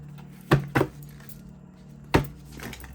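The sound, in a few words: shuffling a thick deck of cards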